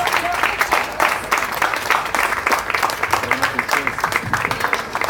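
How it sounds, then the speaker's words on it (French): A crowd at the Hoodstock 2017 gathering in Montréal-Nord applauds in a dense, steady wash of clapping over several seconds, with a voice speaking over it. "je crois qu'il mérite une grande main d'applaudissement à toute l'organisation de"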